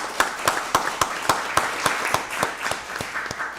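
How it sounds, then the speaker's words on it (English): Applause at a county board of commissioners meeting, heard as a steady run of distinct, evenly spaced claps, fairly loud and close, with no talking over it. "Let's give Director Hammer a round of applause."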